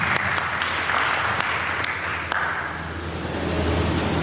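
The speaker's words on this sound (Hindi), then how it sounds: "जोरदार तालियां बजाएं इनके लिए।" Loud, sustained applause fills a hall at an ITI speech competition held on Gandhi Jayanti in Nawabganj, Barabanki, with a roaring wash of clapping and a few sharper claps standing out.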